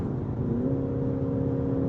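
Audi RS7 Performance engine running close by at raised revs, a steady, loud droning growl with rising tonal whine, no voices heard.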